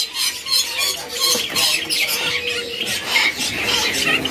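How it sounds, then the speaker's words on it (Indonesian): Gouldian finches at a bird market kiosk in Indonesia, giving a busy chatter of short, overlapping chirps and squawks close by, continuous over steady background noise. "untuk burung Gol Amadin ya."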